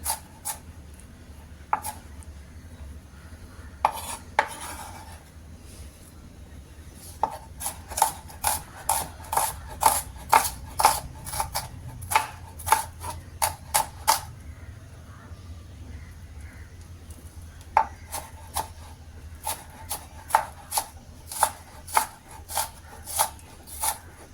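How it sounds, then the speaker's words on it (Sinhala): Onions being chopped with a knife on a board, bursts of rapid sharp taps in quick runs with short pauses between, close and clear over a faint low background. "ලුණු ටික මේ ආකාරයට කපා ගන්න"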